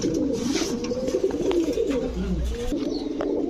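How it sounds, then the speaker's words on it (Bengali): Close, continuous low cooing from a pair of big Golla pigeons, a male and a female, kept at a pigeon farm, the throaty calls overlapping steadily. "গোল্লা কবুতর পালতে চান, এই হচ্ছে গোল্লা নর, এই হচ্ছে গোল্লা মাদি"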